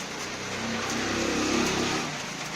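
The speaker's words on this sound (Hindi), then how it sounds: "अभी बारिश बहुत तेज़ शुरू हो गई" Heavy rain pours steadily as a dense, loud wash of hiss that swells slightly and then eases, with no voices over it.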